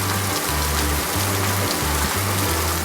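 Heavy rain over Lahore falls as a dense, constant hiss across the whole stretch, with a pulsing low rumble repeating beneath it roughly every half second and no voices.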